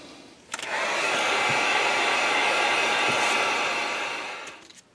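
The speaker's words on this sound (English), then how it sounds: "Now I'm going to get the heat gun. We're going to do a really good dry on this" A heat gun blows hot air to dry paint on a frog-pattern craft piece, a steady loud whooshing roar that starts abruptly, holds for several seconds and tapers off, with no voices.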